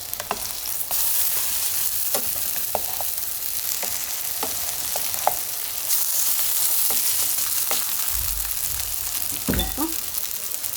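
Potatoes frying in an oiled pan give a steady, close sizzle for the whole stretch, with scattered crackles and a few soft spatula scrapes and knocks near the end. No voices.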